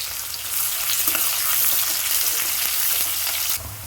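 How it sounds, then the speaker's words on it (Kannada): Chopped onions frying in hot oil in a pan, a loud steady sizzle with occasional stirring scrapes, close and unbroken before easing off at the end. "ಎರಡು ಈರುಳ್ಳಿ ಕಟ್ ಮಾಡಿ ಇಟ್ಕೊಂಡಿದ್ದೆ, ಅದನ್ನು ಹಾಕ್ಕೊಳ್ತೀನಿ. ಈಗ ಫ್ರೈ ಮಾಡ್ಕೊಳ್ಳೋಣ."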